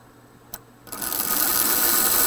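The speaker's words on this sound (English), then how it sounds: "you see the armature spinning. Sounds nice and smooth" After a small click, the motor armature of a Lionel prewar humpback locomotive with a rewired pickup roller spins up into a steady, smooth, high whir that holds close and even.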